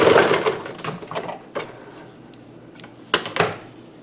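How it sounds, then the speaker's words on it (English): A sewing machine stitches strips of quilting fabric together in a straight seam, giving a quick mechanical whirr at the start and then short bursts and clicks with quiet gaps in between, close by and without speech. "we're just going to sew it straight across."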